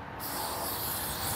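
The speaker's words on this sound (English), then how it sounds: "I'm just going to take some contact cleaner and spray these little ball bearings in there" Contact cleaner sprays onto small ball bearings of a 1970s Massey Ferguson 253 rototiller in one continuous close, loud aerosol hiss that starts abruptly and holds steady.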